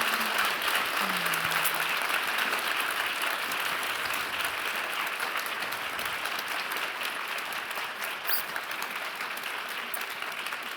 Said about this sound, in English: Now you can give them all a round of applause.